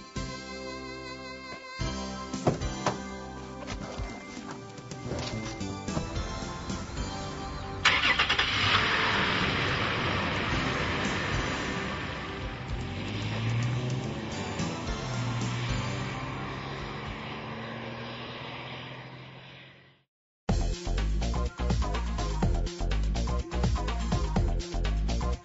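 A Toyota FJ Cruiser starts up and drives, its engine revving and running steadily under acceleration, then a brief silence before a harsher, louder engine passage; no talk.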